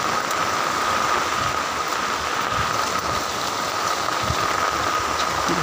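Rain falls across a city with an even, continuous wash of patter and a faint low rumble beneath it.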